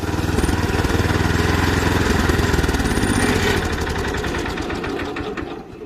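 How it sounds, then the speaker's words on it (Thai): A Mitsubishi 7 hp four-stroke petrol engine on a crawler dump truck runs loud and close with a steady, rapid chugging that picks up a faster, rougher rhythm partway through. "ลองดับเครื่องแล้วสตาร์ทใหม่เลย"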